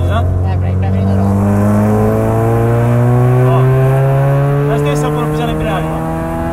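A Chevrolet Celta fitted with a 1.8 Cobalt engine accelerates hard, loud close engine roar climbing steadily in pitch through the gear with no break, and people talking over it.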